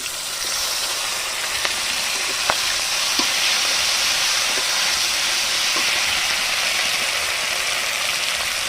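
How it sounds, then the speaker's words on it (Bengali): Onion and ground spice paste sizzling in rohu fish oil, a steady loud frying hiss with a few faint clicks of stirring. "এবারে আমি একটা পেঁয়াজ আর সেই বাটা মশলাটাও দিয়ে দিচ্ছি।"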